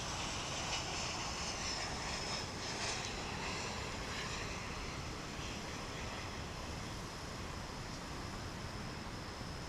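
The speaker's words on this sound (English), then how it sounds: "the Japan Airlines flight arriving from Narita finds its place" A Japan Airlines jet from Narita taxis at DFW, its faint, distant engine hum steady and broadband, with a slight fluctuating whine, and no talking.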